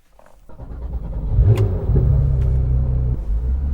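A 2016 Porsche 911 GT3 of the 991.2 generation pulls away and accelerates, its engine rising from a low rumble into a loud, sustained roar heard from inside the cabin.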